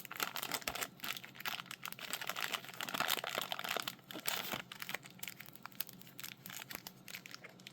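Tape and plastic wrapping are torn off the packaging of a Dragon Ball Super Vegeta action figure, giving close, continuous crinkling, crackling and ripping that is faint overall, with no talk.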